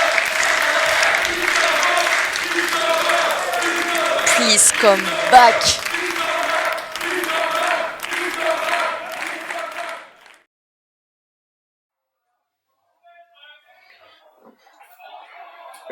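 Crowd at a French women's wrestling show applauds and cheers the winner Princesse Lauriana, clapping mixed with voices and talk for about ten seconds before cutting to near silence.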